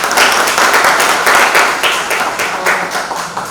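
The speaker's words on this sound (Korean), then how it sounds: "박수 한번 쳐주시고 시작하겠습니다" A room of attendees at a standing committee meeting of a county-merger promotion committee claps steadily for about three and a half seconds, a dense, even patter with no talking over it.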